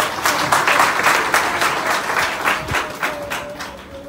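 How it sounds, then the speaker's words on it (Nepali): Audience applause at the Glory Conference Malaysia 2019, a church gathering, sustained and steady across the whole stretch, dense hand clapping from a large crowd without speech. "हामी उहाँको लागि ताली बजाउँ त"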